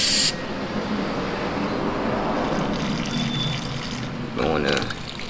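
Brake cleaner sprayed from an aerosol can onto the brake parts of a BMW 428i (F33) during a rotor and pad install: a sharp hiss at the start and another short burst near the end, with talking in between.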